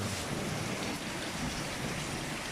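A heavy rain downpour in the Davao uplands: a dense, unbroken roar of pouring rain, loud and steady for the whole stretch, with no voices.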